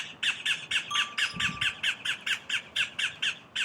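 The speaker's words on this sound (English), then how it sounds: "It's always fun to hear how the birds respond to the sounds." A bird squawks repeatedly in a steady rhythm, about a dozen sharp calls close by, with a brief low thump partway through.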